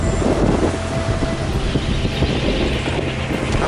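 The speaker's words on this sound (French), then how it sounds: "Il y a 18 nœuds de vent" Strong wind roars across a sailboat on the open Indian Ocean in about 18 knots, a loud, steady, buffeting rush with broadband gusts and water churning beneath, continuous and without any voices.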